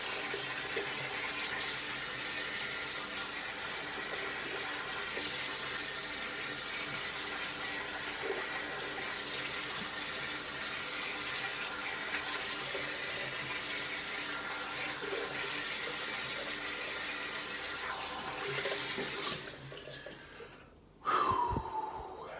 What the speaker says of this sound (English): I don't have to rinse it down the drain, except for now when I'm going to rinse my face.